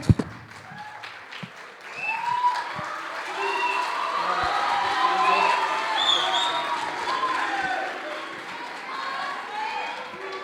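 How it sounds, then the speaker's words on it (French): A debate audience breaks into applause that swells and holds steady, with scattered cheers and voices mixed into the clapping. "veuillez applaudir les représentants du camp"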